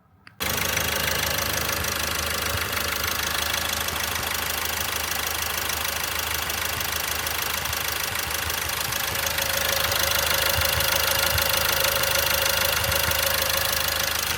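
A car engine idling steadily at close range, a constant low rumble with a faint ticking knock, no talking.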